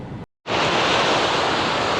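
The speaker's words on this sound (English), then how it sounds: "There's some me-sized looking waves out there" Ocean waves break along the east coast, a loud, continuous roar of surf mixed with wind noise after a brief cut to silence.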